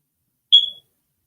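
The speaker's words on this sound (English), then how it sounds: "I gotta get that damn fire smoke detector." A smoke detector gives a single short, shrill electronic chirp, loud and close, then silence.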